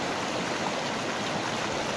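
A river in high water rushes over rapids with a steady, dense roar of churning water that stays loud and unbroken throughout, with no voices.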